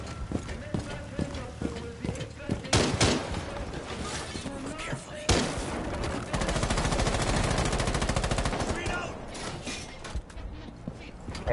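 Gunfire in a PS4 shooter game, sharp shots and a sustained rapid burst in the middle, mixed with dense game noise and voices talking over it.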